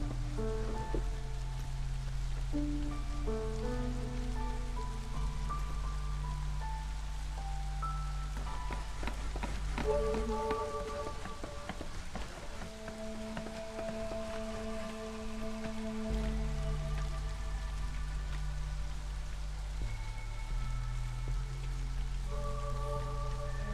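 Steady rain patter falls throughout in the Against the Storm video game, a continuous soft wash of drops beneath sustained background music.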